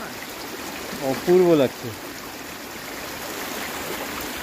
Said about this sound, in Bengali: জলটা এখান থেকে সোজা বয়ে চলে যাচ্ছে